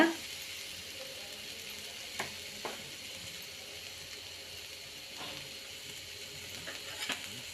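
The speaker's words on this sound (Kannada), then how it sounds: "ನಾನಿಲ್ಲಿ ತೆಂಗಿನಕಾಯಿನ ಹುರ್ಕೋತಾ ಇದ್ದೀನಿ, ಹುರ್ಕೊಂಡು ಆಮೇಲೆ ರುಬ್ಕೊಳ್ಳೋದು" Grated coconut roasts with a bit of turmeric in a pan for chicken curry, a quiet steady dry sizzle with a few soft stirring clicks.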